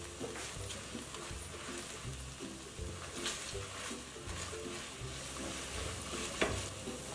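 Banana flower frying slowly in oil over low heat, a steady soft sizzle and crackle with faint scraping of a spoon against the pan, continuous and fairly quiet.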